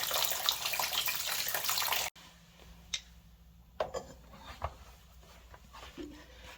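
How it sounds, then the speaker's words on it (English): Coolant drains from the radiator of a 1999-2004 Nissan Xterra V6, first as a steady rushing splash that cuts off abruptly, then as faint scattered drips and small taps in a quiet space. "So we'll just let this drain out for a bit"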